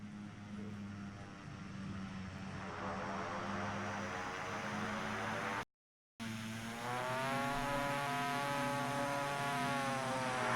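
Steady engine drone of a Carenado PC12 turboprop in flight in X-Plane 11, a constant tonal hum with a brief dropout, then returning with a rising, wavering pitch.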